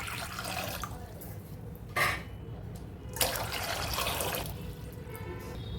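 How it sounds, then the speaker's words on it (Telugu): Water poured from a glass into a thick-bottomed pot while cooking, heard close as a steady splashing fill with a couple of brief louder splashes partway through. "మందపాటి గిన్నె పెట్టుకొని అందులోకి త్రీ గ్లాసెస్ వాటర్ వేసుకోవాలి"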